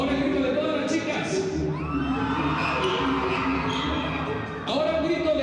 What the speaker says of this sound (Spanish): Ahora el grito de todas las chicas.